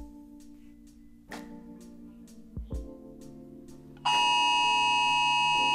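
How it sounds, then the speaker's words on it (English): A loud, steady electronic social distancing alarm tone suddenly starts and holds, after a few faint clicks and soft knocks in a quiet room. "These social distancing alarms are scary."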